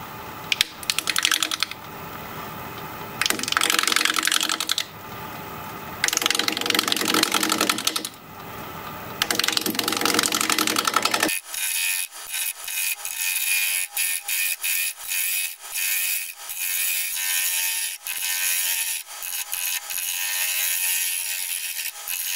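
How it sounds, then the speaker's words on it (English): A 5/8 inch bowl gouge cuts into an oak log spinning on a lathe at 680 RPM, giving rough, rhythmic scraping and chattering bursts that turn into a sharper, steadier rasping cut partway through. "We're going to be turning at 680 RPM, 5/8 inch bowl gouge"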